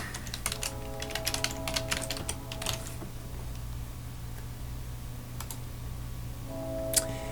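Someone types an email address on a computer keyboard: quick bursts of crisp key clicks for the first few seconds, a quieter pause, then a few more taps near the end over a low background hum.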